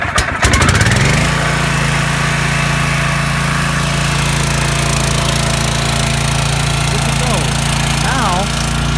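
Home generator engine cranking with a brief rattling start, then catching and running loud and steady with a rough buzzing drone close by, with choke in use.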